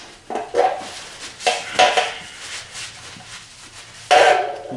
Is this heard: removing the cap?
yes